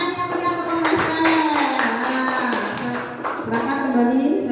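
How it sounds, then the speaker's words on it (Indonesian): Classmates in a school classroom clap for a group that just presented, an irregular burst of hand claps mixed with children's voices calling out over it. "Ayo beri tepuk tangan yang meriah untuk kelompok Esther."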